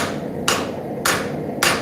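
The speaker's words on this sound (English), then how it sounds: "I'm using the cross and the peen, this hammer." Three sharp metallic hammer strikes from a cross-peen hammer on a railroad spike, evenly spaced about half a second apart, ringing brightly over a steady background hum.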